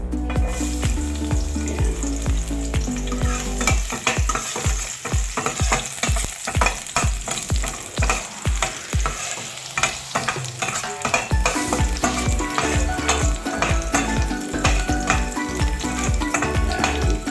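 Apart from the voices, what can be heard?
garlic sautéing in a pan, Filipino monggo cooking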